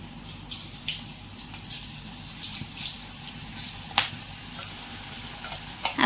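Banana stem pakoda in gram flour and rice flour batter frying in hot oil, a steady close sizzle with small crackling pops throughout and no voices.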